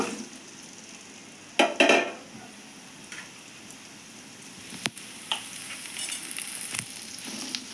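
Ridge gourd pieces fry with a steady, close hiss in a pan, broken by a few sharp clatters and scrapes from a spatula.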